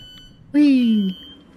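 A single loud, sustained electronic warning tone from a train in Train Sim World sounds alone for about half a second, sliding slightly downward in pitch over faint background hum.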